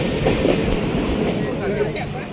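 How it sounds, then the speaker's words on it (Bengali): A train running the Chapainawabganj to Khulna route pulls into Halsha station with a loud, rumbling roll and rhythmic wheel clatter, while a person talks over it. "তো এই যে আমাদের পরবর্তী ট্রেন চলে আসছে।"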